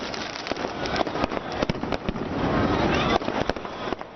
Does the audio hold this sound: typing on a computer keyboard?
no